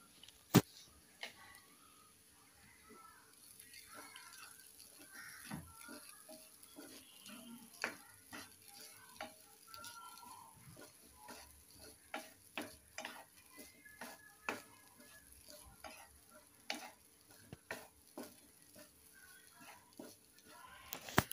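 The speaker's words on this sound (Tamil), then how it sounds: "தேங்காயும் போட்டு மிக்ஸ் பண்ணோம்" Chayote poriyal with grated coconut is stirred in a pan, with faint, irregular scrapes and sharp ladle clicks against the pan over a quiet sizzle for a long stretch.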